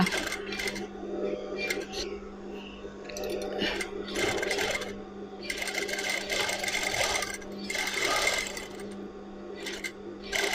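A sewing machine stitches bias binding trim onto a blouse, with a steady hum and mechanical stitching that runs in several bursts, loud and close, with no one talking.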